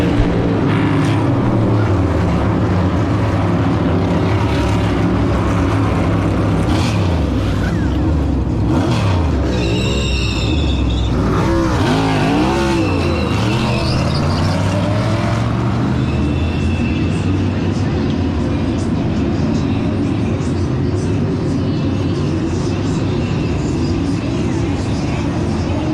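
Race car at Daytona roaring at full power, loud and continuous, with engines rising and falling in pitch as cars sweep past close by, dominating throughout.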